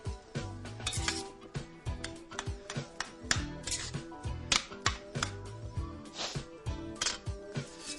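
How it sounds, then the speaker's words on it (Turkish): A flour and oil roux is stirred quickly in a pan, the utensil scraping and clinking against the metal in a rapid, steady rhythm, close and fairly loud. "Ve hızla karıştırmaya devam ediyorum."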